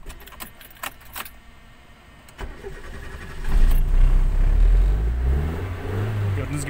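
A car engine with a flasher circuit standing in for its ignition module cranks after several jangling key clicks, catches around three and a half seconds and runs rough and rumbling up close, with a voice in the background.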